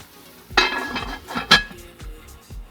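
A metal lid is set onto a frying pan on a hot stove while bulgur pilaf cooks, with sharp clanks and clinks of cookware, one loud clatter, then a second, followed by softer rattles up close.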